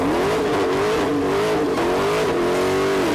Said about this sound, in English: Here is the sound of the Dodge Demon revving its engine.